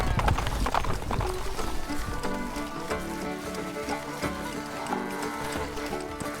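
Horses galloping in the video game Stronghold Legends: a rapid, loud clip-clop of many hooves with a neigh near the start, thinning out over the seconds, under faint game voices and music.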